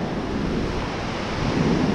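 Ocean surf on a beach at Corpus Christi, Texas, a loud continuous rushing roar of breaking waves mixed with wind buffeting the microphone, no voices.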